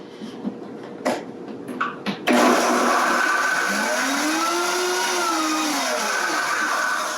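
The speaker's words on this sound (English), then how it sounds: "I've gone ahead and put this all into my Vitamix, my high-speed blender here, and we're just gonna go ahead and get this combined." A Vitamix high-speed blender spins up sharply after a few soft knocks and clatters, then holds a loud, steady whirring roar with a gliding pitch as it purees coconut-milk taco sauce.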